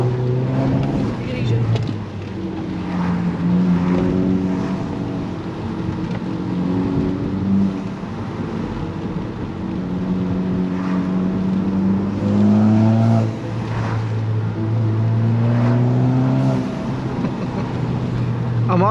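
A manual sports car in sport mode accelerates on a rainy road, engine note climbing through rising pitch sweeps with gear changes, heard from inside the cabin, steady and prominent, while a person talks over it.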